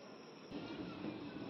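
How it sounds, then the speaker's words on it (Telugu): A passenger train of ICF coaches, capped at 110 km/h, pulls out of Bhimavaram station; a quiet hum swells into a steady, close rolling rumble about halfway through, with no voices. "భీమవరం నుంచి మన ట్రైన్ బయలుదేరింది."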